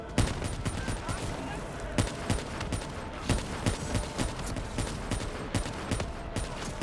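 Rapid gunfire crackles continuously through a Black Ops 3 campaign firefight on Realistic difficulty, with sharp repeated shots and bursts over dense battle noise, some near and some distant, no clear talk.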